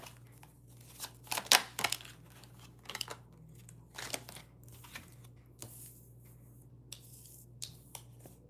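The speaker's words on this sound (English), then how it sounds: "Let me go through these cards and make sure I shuffle them for you" Quiet, intermittent riffling and snapping of tarot cards being shuffled, in short bursts spread across the stretch, close by with no talking.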